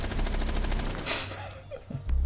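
Gunfire in the Rainbow Six Siege video game: a quick run of rapid, evenly spaced shots, then a sharper loud burst with a short rumbling tail.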